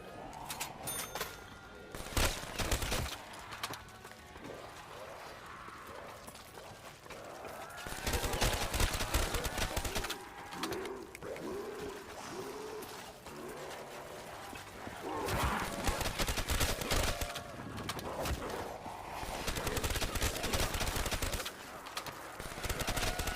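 Ray gun fire against zombies on Nacht der Untoten in Black Ops 3, round 51: rapid bursts of shots and game effects repeat throughout, loud and close, with brief pauses between volleys.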